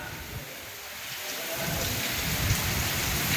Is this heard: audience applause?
no